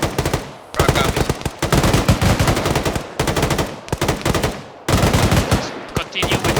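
Machine gun fire in ArmA 3 lays down suppressing fire in long, dense bursts of rapid shots, loud and close, broken by brief pauses.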